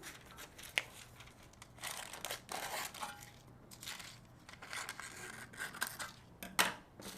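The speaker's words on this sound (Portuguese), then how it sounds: "forrar a nossa forma desse jeito, cortando com a tesoura os cantos, o papel até os cantos da forma." Baking paper crinkles and rustles as it lines a cake pan for a spiced banana cake, and scissors trim it at the corners. The handling comes in quiet, irregular bursts of crumpling and crackling, close up and faint.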